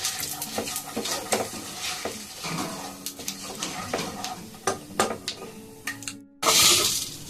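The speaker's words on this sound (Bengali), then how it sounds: "একটু জিরে, একটু তেজপাতা জিরে দিলাম" Cumin seeds and bay leaves sizzle in hot oil for a Bengali potol, potato and egg curry. Scattered clinks of stirring run throughout, and a sharp, louder burst of hissing comes right at the end.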